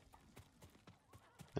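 Horse hooves clip-clop in the video game Ghost of Tsushima, a steady trotting beat of distinct thuds ending in a louder snort or whinny, with no speech over it.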